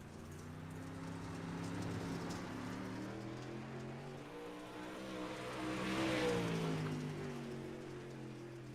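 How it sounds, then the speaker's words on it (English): Modified touring race car at Volusia Speedway Park, engine droning steadily at a distance, swelling louder as it passes and then fading, with a rain-like hiss under it and no talk. "Green flag in the air for lap number 1 for Greg Pillar."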